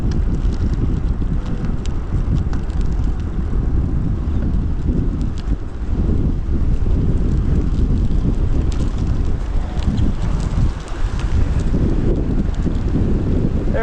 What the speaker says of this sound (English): There's the headwind.